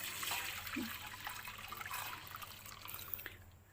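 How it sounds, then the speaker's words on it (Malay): Cooled soy milk is poured from a container into a basin of GDL water while making homemade tofu, giving a faint, steady liquid trickle and splash that runs continuously with no talking. "sekarang ni kita tuang ya air kacang soya yang telah kita sejukkan sebentar tadi selama 15 minit"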